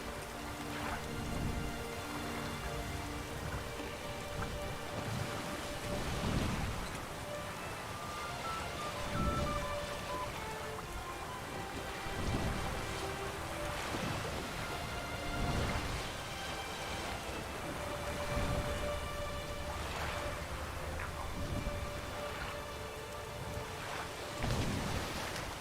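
Steady rain pours across a Witcher 3 landscape while low rolls of thunder rise and fade every few seconds, a continuous dense storm bed with no voices.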